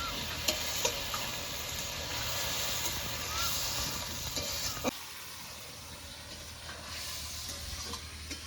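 Eggs with spice paste fry and sizzle in a pan for a spiced egg curry, a steady close hiss with stirring scrapes and small clinks that drops quieter midway.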